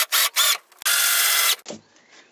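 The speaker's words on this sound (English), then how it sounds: "I'm basically just going to screw it in both on both sides" A power drill drives screws into a wooden bowl blank for a hexagon-style turned bowl: two short whirring bursts, then one longer sustained run, loud and close, ending in a brief clunk and quiet room noise.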